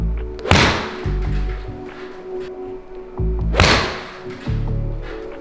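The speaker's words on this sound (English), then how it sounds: "I just want you to just hit some shots, little half swings" Golf club striking balls in little half-swing practice shots during a lesson with a tour pro coach: two sharp, loud impacts a few seconds apart, each a crisp thwack, over low steady background hum.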